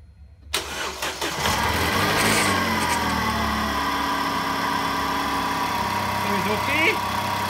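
A Vauxhall/Opel Insignia engine fires up for the first time after repair of a crank-no-start fault: a short cranking whirr catches into a loud, steady idle that holds close by, with a slight rise in revs near the end.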